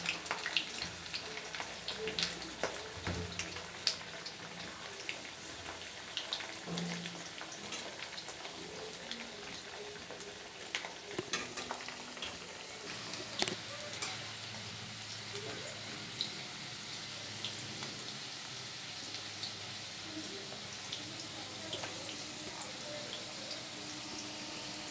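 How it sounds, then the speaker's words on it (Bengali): Potatoes frying in oil until browned, heard as a continuous soft crackling sizzle with irregular pops and spatters, close by and fairly quiet throughout. "আলুগুলোকে আমি লাল লাল করে একটু ভেজে নেব।"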